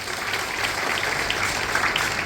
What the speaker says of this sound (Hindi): उनके लिए जोरदार ताली होना चाहिए